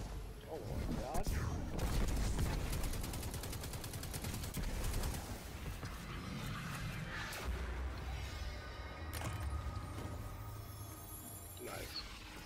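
Grenade launcher shots in the video game Destiny 2 amid a busy firefight, several sharp blasts and bursts of gunfire over a noisy combat background, with players talking.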